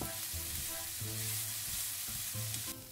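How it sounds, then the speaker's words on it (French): Onions sauté in oil in a wok, with a steady close sizzle and occasional stirring scrapes throughout. "Ajoutez un peu d'huile dans le wok. Faites revenir les oignons."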